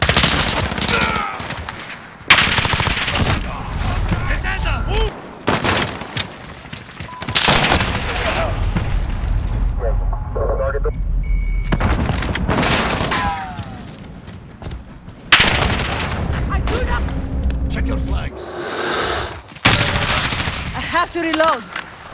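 Rapid machine-gun bursts and heavy booms of gunfire in a Lego war animation with jets and gunships, loud and close, repeated in several long volleys with a voice shouting between them.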